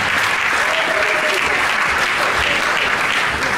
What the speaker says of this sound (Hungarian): Tapsol a közönség?